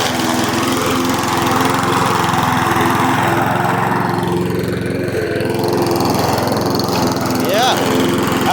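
An old push lawn mower's small engine runs continuously up close, a loud, steady buzzing drone with no pauses.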